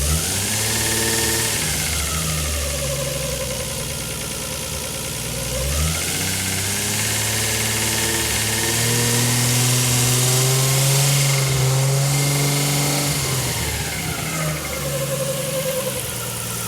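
A Nissan GT-R engine fitted in a Datsun 240Z runs on a dyno, a steady mid-pitched engine drone with slow swells in revs, loud and close throughout, with belt noise at the front and no talking.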